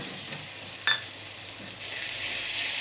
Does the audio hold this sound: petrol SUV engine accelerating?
no